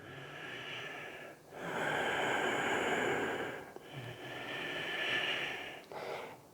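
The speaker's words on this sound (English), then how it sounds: "Breathe in, breathe out." Slow, steady breaths during a yoga vinyasa flow, each long airy inhale and exhale drawn through the nose, close and clearly audible, repeating in an even rhythm with brief pauses between.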